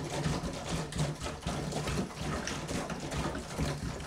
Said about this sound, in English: We're gonna add the vinegar. Can you hear that? Just gurgling.